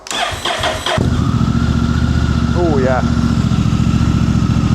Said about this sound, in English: let's have a little fire up now with the baffle out